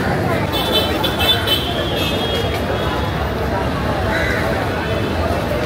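Crowded, busy city street in Mumbai, a dense wash of traffic rumble, engines and crowd babble, constant and fairly loud with no distinct single event.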